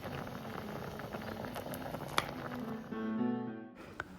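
A Kerala orange pulissery curry comes to a boil in a pot, giving a soft bubbling and light pattering simmer that grows briefly louder near the end, with faint tonal sounds in the background.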